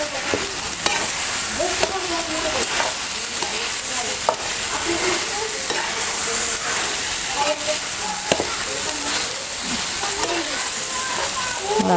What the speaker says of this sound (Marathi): एकजीव करून घ्यायचं सगळं असं खालीवर करून